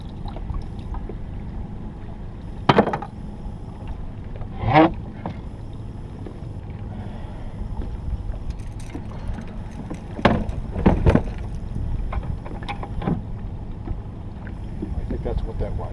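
Wake from a large passing boat breaking against a small vessel in Estero Bay, with several sudden splashing slaps at irregular intervals over constant wind and motor noise.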